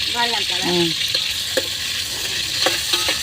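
Onions fry in a pan for a village-style fish curry, a steady close sizzle with occasional utensil clinks, while a voice speaks briefly at the start.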